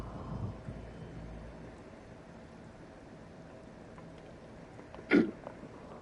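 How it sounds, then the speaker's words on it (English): A single short, gross burp erupts near the end of a quiet stretch of faint room noise, brief and fairly loud against the soft background. "That was the grossest burp I've ever done."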